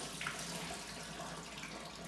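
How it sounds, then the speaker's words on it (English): Tap water runs steadily while sweet potatoes are rinsed in a colander, giving a faint, even hiss for the whole stretch. "I got a colander here so I can rinse out the carrots. I mean the sweet potatoes."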